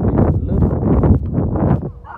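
Several dogs barking near a street, a dense run of loud, overlapping barks and yips that continues almost throughout, easing off briefly near the end.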